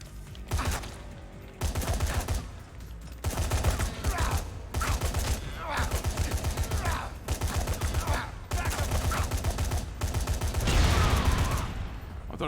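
Assault rifle fire in the video game Dead Rising 3, loud rapid bursts of automatic shots repeating in several long volleys with short gaps, with faint talk mixed in.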